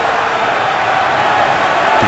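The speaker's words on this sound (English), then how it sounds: "Of course, the buzz begins to build in the crowd" Steady crowd roar filling a football stadium during a Packers at Giants game in 2012, a dense continuous wash of voices heard from a distance, loud and unbroken.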